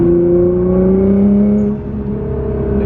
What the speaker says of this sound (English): Again, that's the HKS blow-off valve.